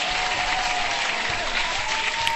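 Dense, continuous applause from many hands, even and sustained at moderate loudness, with no voices standing out.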